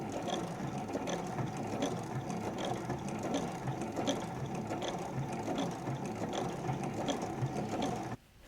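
A sewing machine topstitches a denim jeans pocket with a steady, continuous mechanical whirr and rapid needle ticking, running close and loud for about eight seconds before stopping abruptly.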